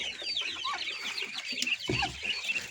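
Native chicken chicks about one month old at a backyard farm, hungry and chirping in a dense, continuous chorus of high peeping close by, with a few lower clucks mixed in.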